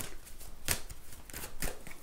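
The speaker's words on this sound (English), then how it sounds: "So now, my gorgeous Leoni, I'm going to shuffle these cards" Tarot cards being shuffled by hand, a run of soft papery riffles and slaps with a few sharper bursts, close and fairly quiet, with no talking.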